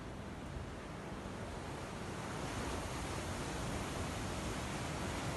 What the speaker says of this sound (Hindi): समुद्र में ऊंची ऊंची लहरें उठ रही हैं।